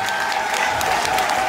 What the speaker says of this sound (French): Je voudrais qu'on applaudisse très fort David Sédi, s'il vous plaît.